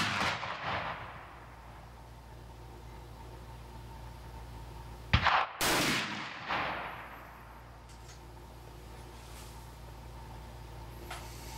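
One loud rifle shot while sighting in a gun at 50 yards from sandbags, a sharp blast with a rolling echo, preceded by a fading earlier report and followed by quiet outdoor ambience.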